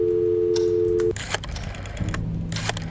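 A telephone in the horror video game Scratches gives a steady tone that cuts off, followed by clicks and a low hum, with faint knocks and rustles around it.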